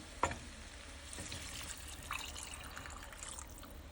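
Three cups of beef broth poured into a pot for green chile stew, a faint splashing trickle of liquid with a few clinks and drips, quiet and without talk.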